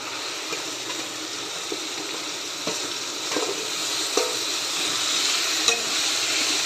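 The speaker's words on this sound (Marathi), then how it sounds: "कुटलेलं लसूण घालून परतून घेऊया." Crushed garlic and guar beans sizzle steadily in a hot pan with onion and tomato, a continuous close frying hiss broken by occasional soft stirring scrapes.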